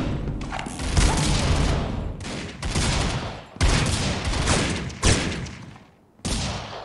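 Gunfire in the mobile shooter Critical Ops, with repeated loud bursts of automatic fire separated by short gaps and an abrupt final burst.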